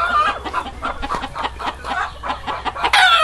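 Gamefowl rooster on a farm clucking in a run of short, rhythmic calls close by, ending in a brief louder squawk, with no talking over it.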